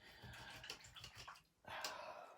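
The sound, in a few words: rinsing paintbrushes in water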